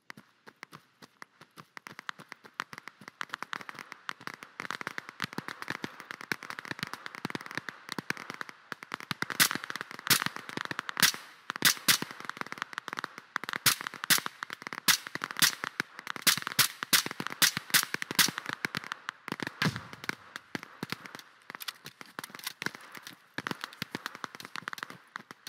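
Video game gunfire in a military shooter crackles in rapid, irregular bursts of sharp shots, loud and near at times, with dense volleys peaking midway and then thinning out, with no talking.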